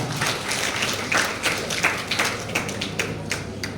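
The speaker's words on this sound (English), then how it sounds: "Let us clap." Audience at an engineering college event clapping, a loose patter of scattered claps from a modest crowd, fairly near and moderately loud, fading slightly toward the end.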